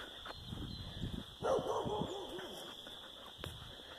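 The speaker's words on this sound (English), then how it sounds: "That's the guard dog there." A guard dog barks a few times in a short burst at a moderate distance outdoors, then falls quiet over a steady background hum.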